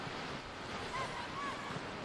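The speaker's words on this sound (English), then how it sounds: "Oh, you hear the gusts" Wind gusts blow across an outdoor football pitch during a women's league match, a steady roaring rush of air buffeting the microphone, with faint whistle-like tones over it.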